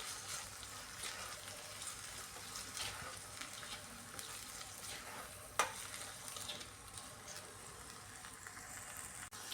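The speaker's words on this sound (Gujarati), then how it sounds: "હવે વટાણા એડ કરશું, સાથે એડ કરશું મીઠું સ્વાદ પ્રમાણે અને સારી રીતે એને હલાવી લેશું આપણે." Peas and salt are stirred in a cooking pan, giving a faint, steady sizzle with soft intermittent scraping and a single sharp clink of the utensil midway.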